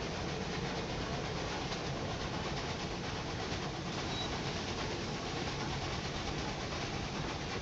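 Mail train running in the Railway Empire 2 game, heard as a steady, dense rolling rumble of wheels and engine that holds an even level throughout with no pauses.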